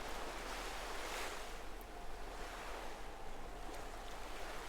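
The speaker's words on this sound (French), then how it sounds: "chaque vague qui roule vers la rive apporte avec elle un éclat d'écume, une danse délicate entre la mer et le vent" Ocean waves roll onto the shore in a steady, broad wash of surf, with wind noise blowing across the microphone throughout and no voices.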